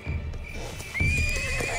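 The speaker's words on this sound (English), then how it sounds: "Calm your horse down, Yakari." A cartoon horse whinnies in a shrill, wavering neigh that rises midway, with soft hoof clatter underneath.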